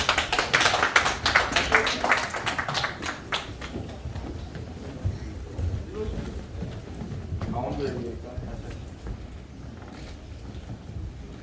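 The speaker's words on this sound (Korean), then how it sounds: "환영의 박수 부탁드리겠습니다" An audience claps in welcome for Democratic Party presidential candidate Lee Jae-myung at a Gangwon regional pledge presentation. The applause is dense and loud for the first few seconds, then thins out beneath continuing speech.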